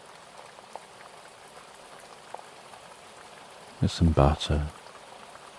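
Steady, soft rain hiss runs underneath throughout, with a voice speaking briefly near the end.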